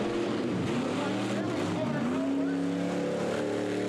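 Mini monster trucks race at a Tremonton, Utah monster truck event, their engines droning and revving loudly and continuously with rising pitch sweeps, under crowd and announcer noise.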